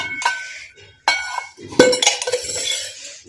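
Newly bought thin bowls being handled in a home kitchen: a few bright, ringing clinks and knocks, close and distinct, with a light metallic chiming after each contact and brief shuffling between them.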